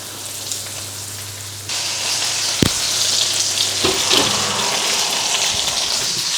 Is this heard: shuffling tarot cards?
no